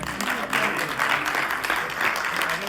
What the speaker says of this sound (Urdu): جو تالیاں ہیں نا یہ ذرا میں نے آخر تک کروانی ہے آپ سب کی